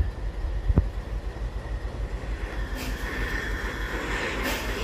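Rumbling trains in the Microsoft Train Simulator game, a local passenger train and a goods train on the tracks, giving a steady low rail rumble with a brief thump near the start and faint high hiss later, no talk.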